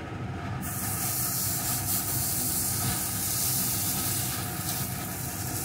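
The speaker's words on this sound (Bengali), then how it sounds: "এখন গ্যাসটা একদম লোতে দিয়ে যে ব্যাটারটি তৈরি করে রেখেছিলাম সেই ব্যাটারটি দিয়ে দেব।" Oats and ripe mango batter, made without oil, poured into a pan over very low gas. It hisses in a steady, close sizzle that starts abruptly and holds without a break, with no voices.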